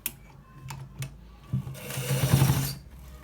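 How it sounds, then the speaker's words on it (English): A sewing machine stitches a shirt sleeve, starting with a few short bursts and clicks before a longer, louder run of stitching; no one talks. "This is exactly how to stitch the sleeve."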